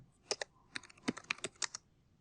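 Fast typing on a computer keyboard while entering HTML, a quick irregular run of crisp close key clicks with no talking.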